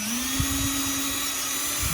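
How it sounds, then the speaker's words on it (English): A power drill bores a screw hole into wood beside freshly epoxied parts of a turkey fan and wing wall mount, a steady high whine sustained for about two seconds, loud and close with no talking. "Now you've got a hole drilled for your screw."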